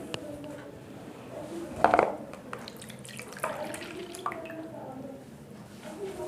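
A cup of milk poured into a bowl while making a batter: a brief liquid splash and trickle near the start, then softer sloshing and clinks, with faint kitchen sounds around it.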